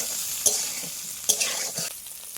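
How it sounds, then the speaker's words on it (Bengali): Potato pieces seasoned with salt and turmeric fry in hot oil for an egg and potato curry, crackling sizzle broken by two sharp scrapes of stirring, close and alone without talk. "একটু নাড়াচাড়া করে একটু লাল লাল করে ভেজে নেব"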